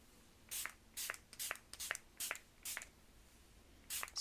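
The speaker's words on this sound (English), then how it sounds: "next I'm going to use this setting spray from Issy" Makeup setting spray from Issy misted onto the face in a series of seven short, close hissing bursts at a steady pace, with quiet gaps between them and no talking.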